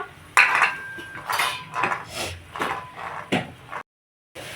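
A metal pan is set down on a stove with a series of clanks and scrapes of cookware, a few distinct knocks spread over several seconds, then silence before a faint return of sound.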